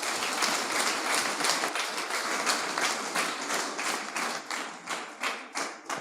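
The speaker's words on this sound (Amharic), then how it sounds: "ጎበዝ አጨብጭቡላት።" An audience claps for a woman called forward, a dense sustained burst of applause with rapid overlapping hand claps that holds steady before thinning slightly near the end.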